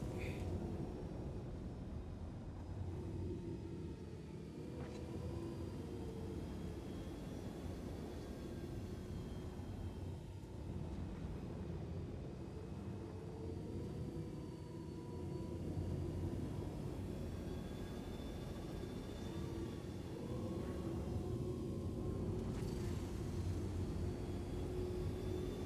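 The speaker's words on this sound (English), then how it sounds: "Need a little bit of afterburner" A spaceship's afterburner in the Star Citizen video game roars as a broad, steady rumble with a faint rising whine, holding at moderate level throughout with no speech.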